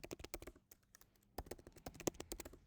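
Rapid, faint clicking of a computer keyboard as someone types a server host name, in irregular bursts with a brief pause partway through.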